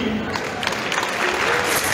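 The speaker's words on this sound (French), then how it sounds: "On applaudit pour lui." Audience clapping for a jury member at the Festival Dary 2023 Miss Dary election, a continuous moderate patter of many hands with crowd murmur underneath.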